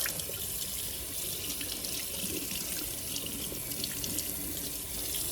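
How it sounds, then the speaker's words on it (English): Cold water runs from a kitchen tap into the sink while skin-on chicken is washed, a steady soft hiss and splash at low volume with no talking. "I'm going to turn on the cold water and just wash this chicken."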